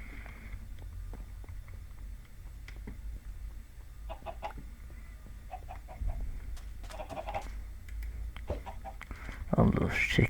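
Chickens clucking in the video game Minecraft with the Gregtech 6 mod, scattered short clucks and bursts over a quiet low hum, growing busier toward the end.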